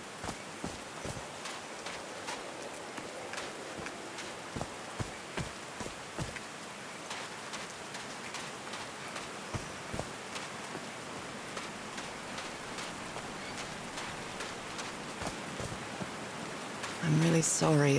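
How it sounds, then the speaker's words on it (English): Steady rain pours down in the seaside puzzle adventure game Call of the Sea, a continuous soft hiss with scattered droplet taps throughout, with a brief louder burst near the end. "These drops of rain are so refreshing."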